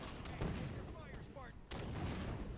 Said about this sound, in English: Now just fire random rocket.